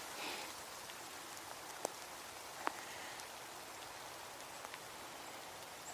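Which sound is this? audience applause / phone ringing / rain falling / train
rain falling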